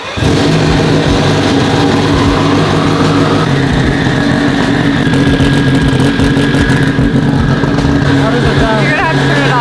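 A 2000 Honda Civic EM1 runs close by with a loud, steady engine drone and a rising pitch partway through, while people talk over it.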